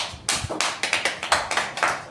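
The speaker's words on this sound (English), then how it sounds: "Please, let's clap for him again, please." Lecture listeners clap for a speaker in a pharmacology class, a short run of sharp, close hand claps that comes in an uneven rhythm, with no voices over it.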